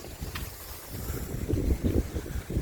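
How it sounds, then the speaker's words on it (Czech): Gusty wind buffets the microphone outdoors by the sea on Sal island, Cape Verde, a low rumbling roar rising and falling in strong close bursts with no voices. "Celkem fouká."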